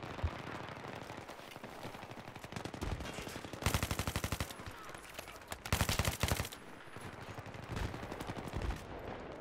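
Heavy gunfire in a Battlefield 3 multiplayer match, rapid automatic bursts crackling throughout with two dense, loud volleys standing out, continuous battlefield clatter underneath and no talking.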